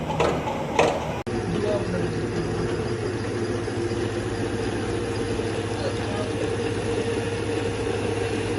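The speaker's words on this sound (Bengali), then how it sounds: "কিভাবে এই পরশ কোম্পানির ক্রিম সেপারেটর মেশিনটি দিয়ে দুধ থেকে ক্রিম আলাদা করা হচ্ছে" A Paras cream separator machine from India separates cream from milk, its motor giving a steady, close, continuous hum after a couple of brief knocks at the start.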